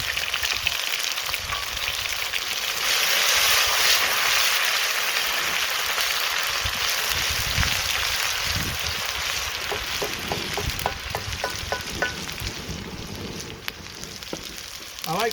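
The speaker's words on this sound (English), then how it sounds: "I like to put the ginger and garlic in before the onions sometimes, because it really helps sizzle it off" Ginger and garlic sizzle hard in a hot pan for a chicken madras, a loud, steady frying hiss with a few sharp crackles and spits near the end, no voices.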